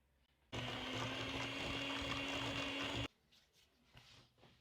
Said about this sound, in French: Moi, je vais me servir de mon robot.